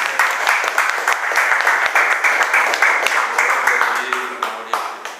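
A church congregation applauds in a continuous burst of clapping that fills the room, steady and fairly loud, with voices murmuring underneath toward the end.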